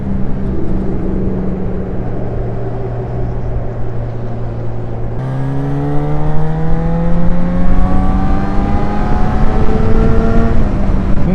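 A motorcycle on a hot-weather ride toward the beach holds a steady engine drone, then shifts gear and climbs in pitch as it accelerates hard, the rising whine loud and close over continuous wind rush.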